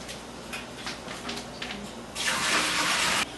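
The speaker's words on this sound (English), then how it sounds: "We're going to rinse this off real good, clean it a little bit in between" Frozen crab legs are rinsed under a kitchen tap: a short burst of running water splashes loudly in the sink for about a second, after softer handling and trickling sounds.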